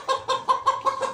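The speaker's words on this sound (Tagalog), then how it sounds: "Dala niya na yung manok ni San Pedro." Chicken clucking, six quick rhythmic calls in just over a second, close and moderately loud with a little background noise and no talk.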